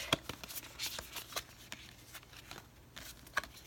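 Tarot archetype cards are shuffled and drawn by hand, giving a string of soft, riffling flicks and light slaps, close and fairly quiet, with no voice over them.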